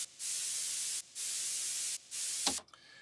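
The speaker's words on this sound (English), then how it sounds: "All right, so I have this white noise little loop here," A white noise loop from a sample pack plays as three even bursts of bright steady hiss with short gaps between them, ending in a brief sweep-like tail.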